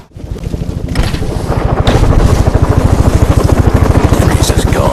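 A helicopter in Batman: Arkham Origins beats its rotor in a steady, fast pulse that stays loud and close throughout, with rushing wind noise over the top.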